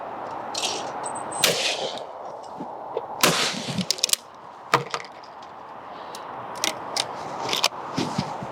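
A Miroku MK38 shotgun fires at clay targets, sharp loud bangs spaced irregularly, several in quick pairs, over faint outdoor background with no talking.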